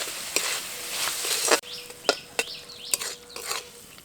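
A spoon stirs potato and eggplant with chili and cumin powder in a pan, a series of sharp scraping knocks at an irregular pace over a faint sizzle, with birds chirping in the background.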